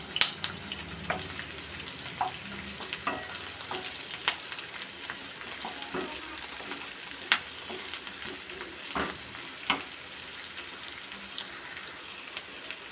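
Onion and garlic sauté in a pan for an idli chutney, with a steady low sizzle and scattered clinks and scrapes of stirring throughout, moderately close, no talking.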